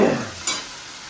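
Tomato chutney cooking in a pan, a brief close stir and sizzle with a soft scrape midway, over a short moment with no talk.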